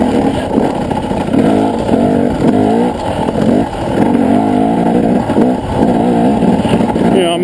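An off-road vehicle's engine potters along in second gear on a slippery forest trail, a wavering mid-range drone that rises and falls gently at close range, while someone talks over it throughout.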